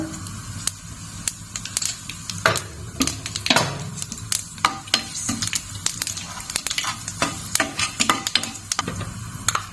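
Panch phoron and dried chilies crackle and sizzle in hot oil for a ham-based five-spice dahi dish, with dense sharp pops and spatters over a steady frying hiss and occasional utensil stirring.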